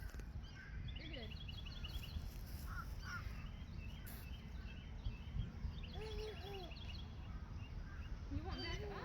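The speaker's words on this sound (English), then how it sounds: "One of the crows is coming in." Crows caw outdoors in a few short, harsh calls at middle distance over steady background noise and rustling, with occasional quieter bird calls.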